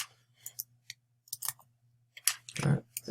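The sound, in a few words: typing on a computer keyboard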